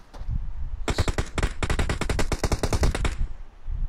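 Automatic gunfire in a shooter video game, fast rapid-fire bursts, loud and close, with a brief pause between two volleys.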